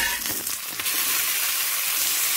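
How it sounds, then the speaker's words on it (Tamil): Red snapper wrapped in banana leaf fries in a pan, giving a steady hissing sizzle that stays at an even level throughout, close and alone, with a few small crackles near the start. "இந்த மாதிரி லைட்டாக ஃப்ரை ஆனால் போதும்."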